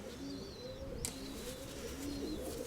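A white pigeon coos softly in a loft, a low murmuring call repeated steadily through the stretch, with faint chirps from other birds in the background.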